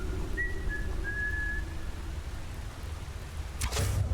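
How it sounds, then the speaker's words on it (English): A character whistles in the Skyrim video game, giving away a sneaking archer's position: short, clear whistled notes over a low ambient game rumble, followed by a brief sharp burst near the end. "Thank you for whistling and giving away your position."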